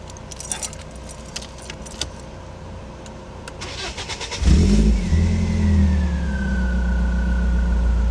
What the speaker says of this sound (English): I need my fucking keys in the ignition to start it.